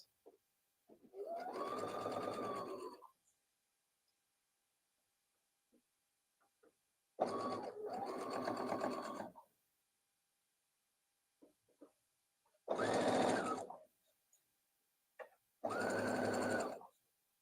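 Close, distinct bursts of a sewing machine stitching across a dart on a fabric memory bear, four runs of about two seconds each separated by quiet pauses.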